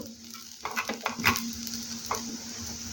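Sago pearls sautéing in a pan with a low steady sizzle and several close scraping stirs and light utensil taps, no voices.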